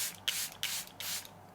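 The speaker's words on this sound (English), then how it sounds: "just go in with a setting spray and just spray it lightly on top" Setting spray misted lightly over finished makeup: three close, crisp hissing bursts from the pump bottle, evenly spaced, each lasting about a quarter second, then quiet.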